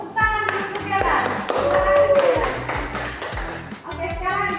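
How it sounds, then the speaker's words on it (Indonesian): A classroom of children claps hands for a classmate named Gerald in rapid, slightly uneven bursts, close and lively, with kids' voices and chatter mixed in. "Oke, tepuk tangan dulu untuk Gerald."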